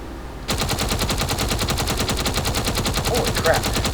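Ship-mounted guns firing in the Space Engineers game, a loud continuous rapid-fire burst that starts abruptly after a short quiet moment and keeps a steady mechanical rhythm to the end.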